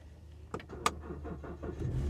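A 2020 Volvo S60 T5 car engine starts: a couple of sharp clicks are followed by a brief cranking catch, then a low engine rumble swells to a close, steady idle within about two seconds.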